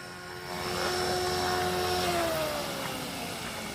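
A remote-controlled scale model helicopter on a small, partly charged battery hovers before landing, giving a loud, steady, high-pitched rotor whine up close whose pitch dips slightly as it settles.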